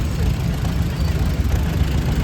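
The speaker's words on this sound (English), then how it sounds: "Farmall Cub. Nice little cultivating tractor there. Built 1948." A 1948 Farmall Cub cultivating tractor runs in a steady low idle at a parade of power, its engine rumble continuous and moderately loud throughout with no clear pauses.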